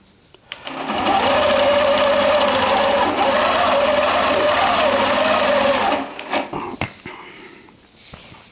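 A longarm quilting machine stitches a dog placemat using rulers, its steady high motor whir running for several seconds before stopping. A few clicks and handling sounds follow.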